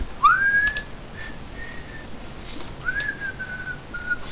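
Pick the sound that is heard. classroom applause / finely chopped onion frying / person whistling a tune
person whistling a tune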